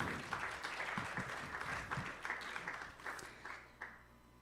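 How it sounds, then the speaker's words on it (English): An audience at a Monaco digital-art collectibles panel applauds as a curator comes on stage, with moderate scattered clapping and individual sharp claps that gradually taper off. "Applause"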